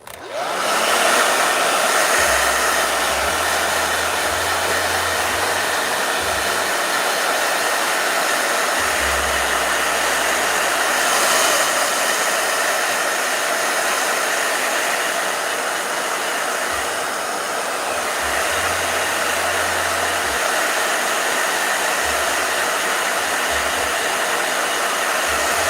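A blow dryer runs loud and close for nearly half a minute, a steady broadband whoosh with no pauses, while a low hum drops in and out beneath it.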